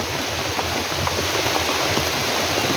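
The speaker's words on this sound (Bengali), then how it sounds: "এই যে প্রচুর বৃষ্টিপাত হচ্ছে" Dense, heavy rain hisses continuously and loudly, with a constant wash of drops and no talking.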